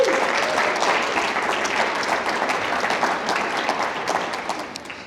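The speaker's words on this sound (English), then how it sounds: "would you just clap and tell her that for a second, would you please?" Conference audience applause for an organizer at an Iowa Division IAI event, a full sustained roar of many hands holding steady and tapering slightly toward the end.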